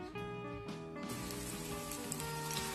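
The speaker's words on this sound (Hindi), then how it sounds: "2 टेबल स्पून के करीब ऑयल डाल रहे हैं और उसमें 1 अदद प्याज बारीक स्लाइस में कटी हुई वो डाल रहे हैं।" Thin-sliced onion hitting about two tablespoons of hot oil in a pot, a steady bright sizzle like light rain that continues throughout, heard alongside sustained musical tones.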